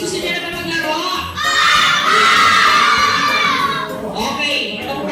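Grade 3 children at a Christmas party shout and cheer together in a loud, close crowd burst that swells and then fades.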